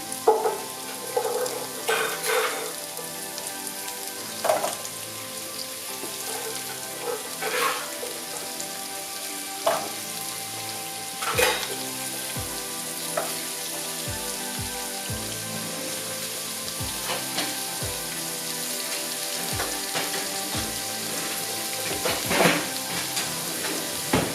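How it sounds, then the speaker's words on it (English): Butternut squash sautés in a pan with a continuous crackling sizzle for a long stretch. Scattered utensil clicks and taps come through near and fairly loud, and nobody speaks. "So now what we really want to do is just saute it a little bit because we want it to get it a little bit brown"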